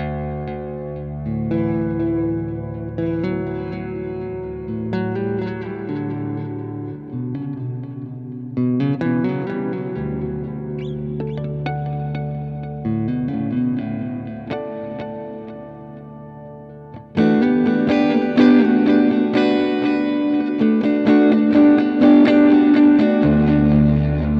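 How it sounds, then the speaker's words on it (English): Guitar played through an Earthquaker Devices Avalanche Run delay and reverb pedal, sustained chords and notes trailing into washes of ambient echo, growing louder and fuller near the end. "when we wind some delay back into it, it's just a perfect ambient pedal"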